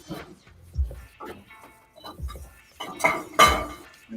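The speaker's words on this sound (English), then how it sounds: "I'm gonna wash the next batch of dishes." Dishes being washed in a home kitchen while lamb browns nearby: pots, pans and cutlery clink and clatter in irregular bursts, loudest near the end, with brief low thumps between.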